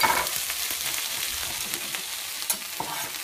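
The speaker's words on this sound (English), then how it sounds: "So, just fry it for a few minutes." Onions with ginger and garlic paste fry in a pan, a loud, close, continuous sizzle with occasional stirring scrapes and small pops.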